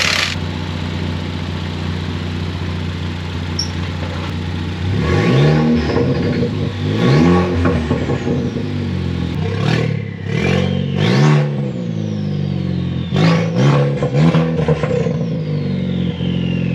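A Ford Focus ST engine idles roughly, then is revved repeatedly in rising and falling bursts, loud and close, with rattling underneath.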